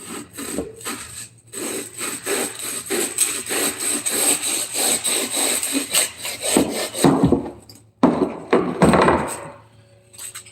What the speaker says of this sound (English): let's cut a little more on that. Straighten it up because I'm cut it crooked.